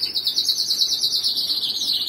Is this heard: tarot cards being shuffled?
no